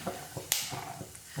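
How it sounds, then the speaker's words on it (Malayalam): Peanuts frying in hot oil for a Kerala-style mixture give off sharp, scattered pops and crackles, one especially loud snap standing out over a soft, steady sizzle. "കപ്പലണ്ടി ഒന്ന് പൊട്ടി വരും."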